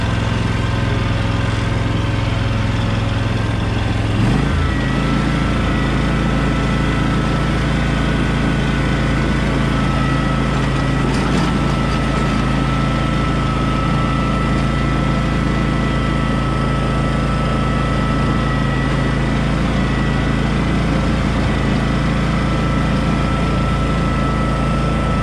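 A John Deere zero-turn mower engine runs loud and steady on a dusty hillside, a constant droning roar with a brief shift in pitch early on, close by and without talking.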